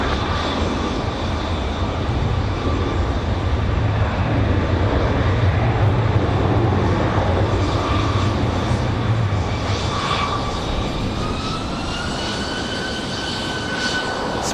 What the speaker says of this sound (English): Smooth touchdown for the 777